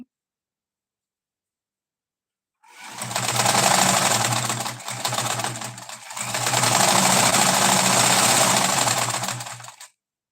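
An unoiled home sewing machine runs noisily while stitching a hijab. It gives a loud, rapid, rattling whir in two long runs broken by a brief pause, with no talking.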